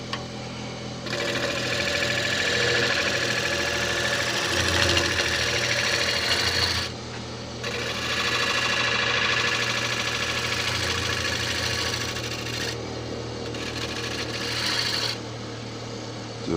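A wood lathe turns a Spanish chestnut bowl while a gouge takes a gentle finish cut, giving a close, continuous scraping hiss over the motor hum, with brief pauses where the tool lifts off the wood.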